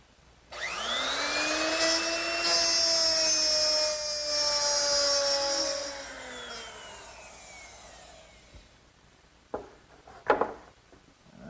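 A router with a 1/2-inch mortising bit plows grooves in wood for a writing desk, a loud, steady high whine that spins up, holds for several seconds, then winds down, followed by a few clunks.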